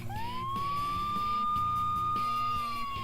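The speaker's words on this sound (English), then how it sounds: "isn't that the noise from the police cars with the flashing lights?" A police car siren in the video game Vampires' Melody wails as one long rising tone, held steady and then easing down, loud and clear over a low musical background with no talking.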